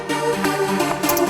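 Two stacked synth layers play the same MIDI line together, giving a thick combined tone with a few rhythmic note changes over a short stretch and no voices.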